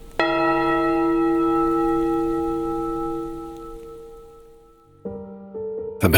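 A church bell tolls once with a long ringing decay that fades over several seconds, followed by further overlapping bell strikes near the end, heard alone without any voices.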